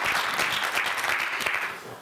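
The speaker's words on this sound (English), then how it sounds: "we have to give him applaud" Audience applause for Abdiweli at a talk on ending the transition in Somalia, a steady, dense round of clapping from a roomful of people, fairly loud and continuous, tapering off at the end.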